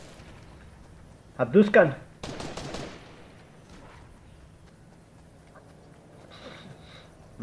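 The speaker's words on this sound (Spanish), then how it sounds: "Me están disparando" Gunfire in the Fortnite video game comes in a couple of short, sharp volleys close together, around and under a player's excited voice.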